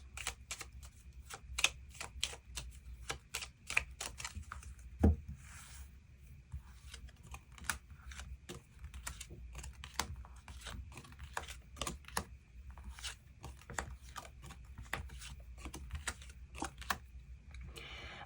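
Tarot cards being drawn and handled: a steady run of faint, quick clicks and soft snaps with light rubbing and shuffling against a low background hum, and no speech.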